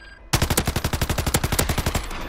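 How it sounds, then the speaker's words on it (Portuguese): Automatic gunfire in the video game Call of Duty: a sudden, loud burst of rapid, evenly spaced shots that begins after a brief quiet moment and keeps firing steadily to the end. "Cuidado que eu tomei tiro aqui."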